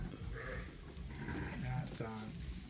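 Sheep bleating in a farm pen where a ewe lambed overnight: a few short, moderately close bleats against a busy barn background with people talking nearby.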